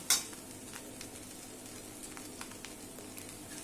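Steamed kanda batata poha with onion and potato is stirred in a pan, giving a soft, continuous scraping and faint sizzle with a few light taps, quiet and close, with no voices.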